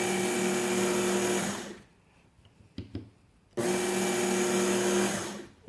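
A Work Sharp Knife & Tool Sharpener MK2 belt grinder runs loud and whirring on a knife, cutting out for a short quiet gap with light clicks, then whirring again for another pass.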